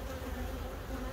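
Honeybees hum steadily at an opened hive during varroa mite treatment with strips, a close, dense and continuous buzz with no talk over it.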